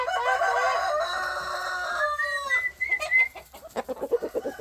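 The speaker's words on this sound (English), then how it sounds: "I thought that turkey was gone." A farm turkey calling, a loud, close, harmonic warbling call sustained for a couple of seconds, followed by shorter gobbling or clucking bursts with no talk.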